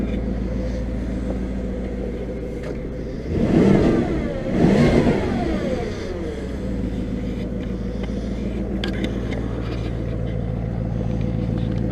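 A Porsche Cayenne Turbo fitted with a cheap exhaust modification idles with a deep burble, then gives two quick, loud revs in succession before settling back to a steady rumbling idle.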